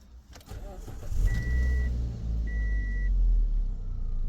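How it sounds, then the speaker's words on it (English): A Toyota car with a semi-automatic manual transmission starts up close by, the engine catching and settling into a steady low idle while two short electronic beeps sound over it. "Press the brake. Start the car."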